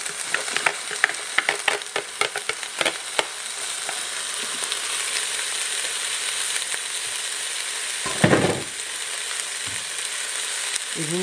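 Mexican rice with red beans and chipolatas stirred in a sizzling pan, a string of quick scraping clicks up front over a constant bright frying hiss, with one louder clatter near the end.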